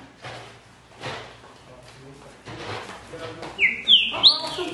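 A trinca-ferro, or green-winged saltator, sings a few bright, sharp whistled notes close by near the end, following softer rustling and handling noises.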